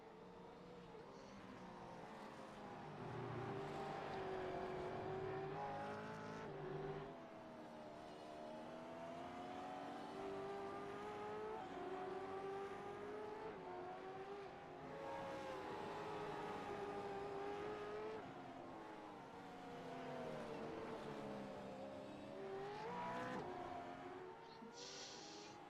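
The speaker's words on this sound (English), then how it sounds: "the blue and the yellow Mitre 10 car, Brock Clark." Race cars from a sim racing video game, among them a blue and yellow Mitre 10 sponsored car, drone past with engines rising and falling through gear changes, steady and fairly close, with no talking.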